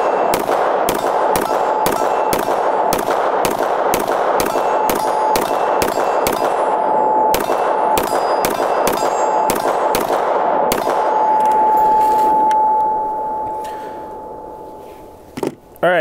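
FN 510 pistol firing 10mm rounds, about eighteen sharp, loud shots in quick steady succession with ringing metallic echoes, then a lingering ring as firing stops and a couple of final handling clicks.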